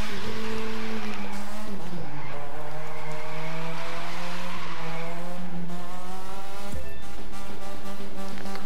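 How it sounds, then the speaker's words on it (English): A car in The Crew 2 drifts with squealing tires: a loud, sustained engine drone with shifting pitch and rising and falling tire screech, then a sharp thump near the end. "look at this drift"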